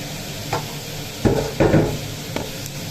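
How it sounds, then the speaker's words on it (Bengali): Prawns fry in oil with cumin seeds, giving a steady low sizzle broken by a few louder bursts of stirring and spattering close by. "এবার আমি ওইখানে জিরে ফোড়ন দিয়ে চিংড়িটা ভাজতে দিয়ে দিই"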